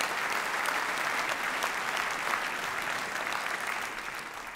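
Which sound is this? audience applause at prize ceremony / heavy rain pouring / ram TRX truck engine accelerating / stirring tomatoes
audience applause at prize ceremony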